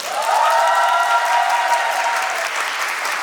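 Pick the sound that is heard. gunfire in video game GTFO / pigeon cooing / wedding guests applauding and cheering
wedding guests applauding and cheering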